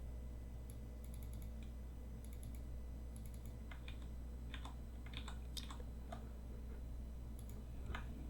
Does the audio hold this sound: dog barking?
no